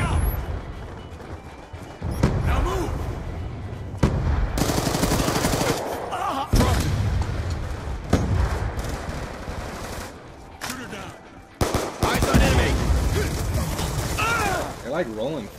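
Gunfire in a first-person shooter video game, loud bursts of rapid automatic fire and separate shots coming in clusters with short gaps, mixed with heavy impacts and game noises, while players talk over it.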